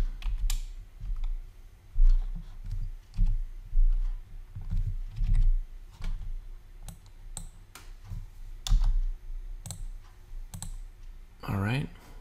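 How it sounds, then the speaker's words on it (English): Quick bursts of key clicks on a computer keyboard while entering a number in Revit 2017 ductwork software, irregular taps close up and fairly soft. "I wanted to type that number in."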